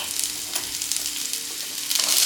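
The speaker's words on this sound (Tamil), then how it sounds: "நறுக்கி வச்ச வெங்காயத்தை சேர்த்துக்கலாம்." Chopped onions hit about two spoons of hot oil in a pan while egg puff filling is cooked, giving a steady, close frying sizzle and hiss that swells louder toward the end, with no voices.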